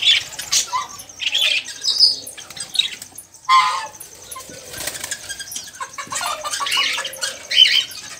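Birds in a breeder's aviaries, including cockatiels and a female curió: busy chirps, tweets and squawks mixed with repeated wing flapping, fairly close and continuous.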